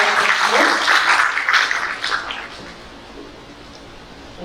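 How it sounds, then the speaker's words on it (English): Audience applause after a medical talk on cervical cancer: a steady burst of many clapping hands that fades gradually toward the end, with no voices over it. "we need to give them another round of applause"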